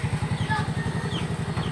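A Yamaha Mio scooter fitted with a dual iridium spark plug idles smoothly nearby, a steady low, rhythmic putter with even pulses and no sputtering.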